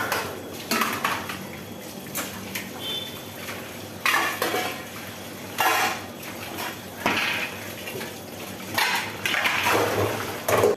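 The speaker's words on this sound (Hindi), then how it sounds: "यहाँ पर ना जितने भी सारे बर्तन हैं पहले मैं इनको खंगाल लूँगी।" Dishes and utensils clank and clatter in the kitchen sink in irregular bursts while being rinsed, fairly close, with quieter stretches between the rattling handfuls and no voices.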